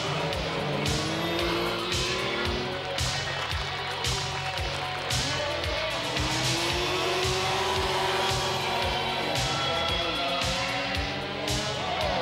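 Rallycross race cars, a Renault Mégane and a Citroën ZX, at a 1997 French championship event, their engines roaring loudly and continuously with pulsing revs and gear changes throughout.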